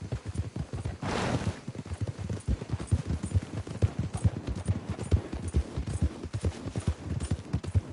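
Horse hooves gallop hard and fast in a steady, rapid rhythm during a race in the video game Red Dead Redemption 2, loud and close throughout, with a brief burst of noise early on.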